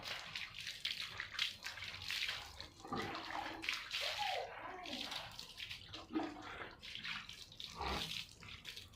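Water splashing and running while a dog is bathed for the first time two months after giving birth, a steady faint wash with small splashes, soft voices now and then.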